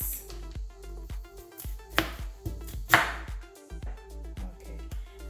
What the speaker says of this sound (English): In order to get the best out of your ginger, guys, I like to slit it in the middle.